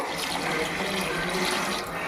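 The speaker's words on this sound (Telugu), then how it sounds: "వాటర్ పోసుకుందాం." Water pours steadily into a cooking pot for biryani rice, a close, continuous splashing rush that lasts a couple of seconds.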